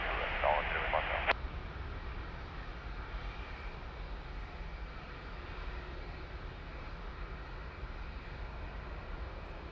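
An airliner approaching runway 02 at Lisbon Airport makes a faint, distant, steady engine drone. A brief voice is heard at the very start, then the low rumble carries on evenly.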